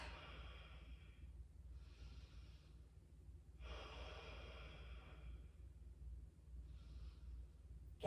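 Slow, steady breaths during a Surya Namaskar A yoga sequence, a few long airy inhales and exhales spaced across the quiet, close and soft with no talking.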